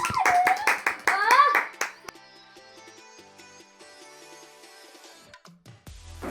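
Hand clapping at a home birthday celebration, a burst of claps mixed with singing voices, then quieter background sounds.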